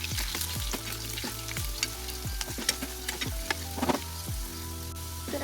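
Potatoes frying in hot oil until golden brown crackle and sizzle loudly up close, with repeated scraping and clacking of a utensil against the pan in an uneven rhythm.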